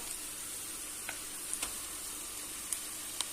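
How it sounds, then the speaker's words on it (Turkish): Ground beef browns in a pan with a faint, steady sizzle and a few soft pops, heard alone. "Kıymalarım da burada güzel güzel kavruluyorlar."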